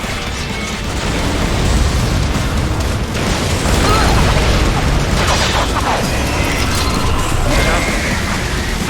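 Missile explosion in the video game Metal Gear Rising: Revengeance, a loud, sustained blast with rumbling bursts and mechanical clatter amid busy combat noise, with a voice talking over it.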